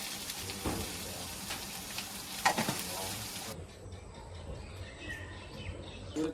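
Spiced food fries with turmeric, salt, chili and cumin powder, a moderate sizzle with a few stirring clatters that fades partway, while faint birds chirp in the background.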